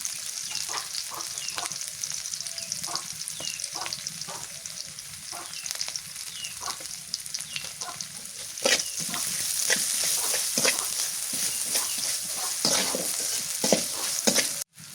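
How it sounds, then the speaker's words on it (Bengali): Onion, dried shrimp and chilli sizzle and crackle in oil in a pan, with repeated scraping strokes of a spatula stirring them, close and continuous, in a village kitchen. "পেঁয়াজ শুটকি মরিচ এগুলা ফোরন টোরন সবই সুন্দর করে ভাজা নিলাম"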